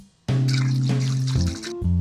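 Water pours steadily into an ultrasonic cleaner tank from close by for about a second, a strong tonal gush that shifts pitch as it fills, then stops and briefly resumes.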